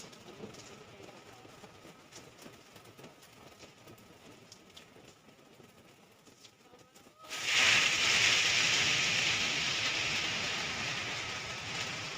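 Steady rain hiss starts suddenly partway through and continues as a loud, dense wash of sound, following quieter rustling background.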